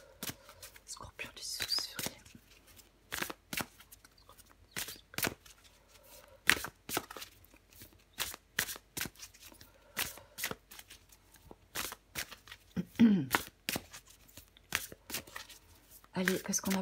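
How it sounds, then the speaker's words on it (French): Tarot cards shuffled and drawn at close range, a string of soft riffling flicks and slaps in an irregular rhythm, with quiet French talk in between. "je prends encore une carte pour vous, les scorpions"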